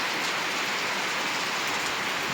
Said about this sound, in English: It is raining, guys, and it has been raining this consistently for almost the whole summer from mid-December